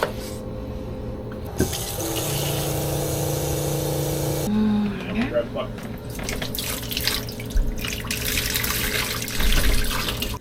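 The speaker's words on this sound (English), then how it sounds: "I added some more water to try to at least have a little bit more stuff to suck up." Water running steadily into a boat bilge during cleaning, a loud continuous gushing and splashing with mechanical hum beneath and some voices in the background.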